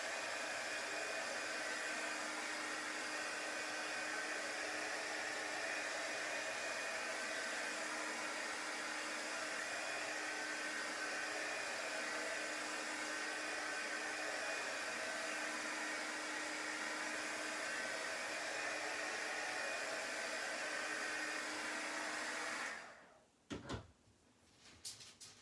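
A hair dryer blows continuously and loudly at close range to dry chalk paste on a dream catcher sign, then cuts off abruptly near the end with a couple of handling knocks.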